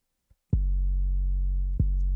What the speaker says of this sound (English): And this is the second 808 pattern.